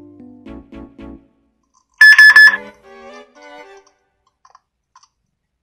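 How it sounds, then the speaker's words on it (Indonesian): A short burst of rapid electronic alarm beeps from a Yoosee Capsule CCTV camera, loud and shrill, preceded by a few low thumps and followed by quieter fading tones. "Lalu untuk fitur selanjutnya yaitu alarm."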